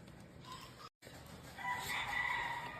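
A rooster crows in a cooking setting, the call swelling loud and drawn out in the second half after a brief break, with no talk over it.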